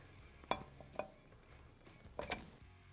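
Metal engine parts clink and knock as a KTM 690 cylinder head is fitted over the head gasket and dowel pins: a few sharp, close taps spaced irregularly, with quiet handling between them.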